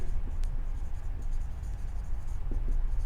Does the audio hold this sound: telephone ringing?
no